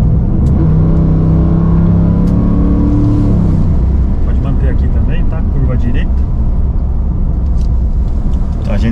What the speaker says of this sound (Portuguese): Coyotezão V8 de Mustang acordando.